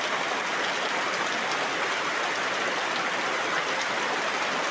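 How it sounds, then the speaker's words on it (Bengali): Heavy monsoon rain falls steadily around a house surrounded by floodwater, a dense, constant wash of hiss with no breaks and nobody speaking. "এরপরও শ্রাবণ মাসের মতো বৃষ্টি থামছে না"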